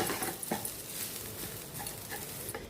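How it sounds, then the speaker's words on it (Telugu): Cooked rice being stirred and mixed with sesame powder in a pot just after the stove is switched off, giving soft, steady scraping and patting with faint clinks of the spoon, close and continuous, with no talk. "స్టవ్ బంద్ చేసేసిన వెంటనే కూడా ఈ పౌడర్తో పాటు ఈ రైస్ అంతా కూడా బాగా కలుపుకోవాలి."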